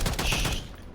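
Gunfire from a FENG SMG in Call of Duty: Warzone, a loud, dense burst of rapid shots filling the whole second close up, tapering slightly at the end.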